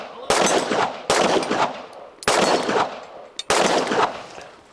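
A Glock 47 pistol fired outdoors: four loud, sharp shots spaced about a second apart, each with a ringing echo decaying before the next.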